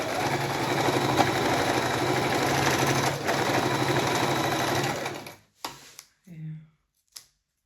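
A sewing machine stitches a skirt seam in a steady, close, continuous whir for about five seconds, then stops, followed by a few short bursts and faint handling sounds.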